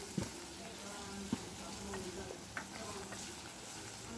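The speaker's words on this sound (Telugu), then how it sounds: "ఆనియన్స్ అయితే బాగా వేయించుకోవాలి ఆయిల్లో" Onions fry in oil while being stirred, giving a soft, continuous sizzle with a few sharp taps from the stirring utensil scattered through it.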